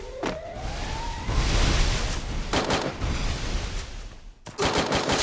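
Bursts of gunfire from a shooter video game in a one-on-one match, loud and dense, with a few sharp breaks and a rising tone early on; no talking.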